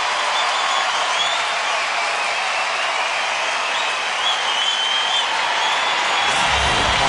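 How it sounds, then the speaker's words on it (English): A baseball crowd at a Florida Marlins at Houston Astros game gives a polite, restrained round of applause. It is a steady wash of light clapping and crowd murmur that holds evenly throughout, with no loud cheering. "Golf clap there."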